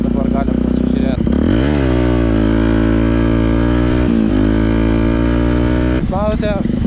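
A Yamaha WR motorcycle with an Akrapovič exhaust idles and is revved close by, a loud steady burbling engine note rising and falling through several throttle blips, with someone talking over it.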